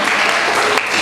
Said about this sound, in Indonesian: Kita berikan tepuk tangan yang paling meriah untuk Evan.